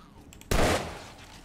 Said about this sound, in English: Stop shooting my stuff.